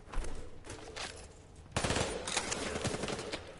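Gunfire in a PS4 shootout game, with scattered shots and then a dense, fast burst of automatic fire, fairly quiet and heard without talk.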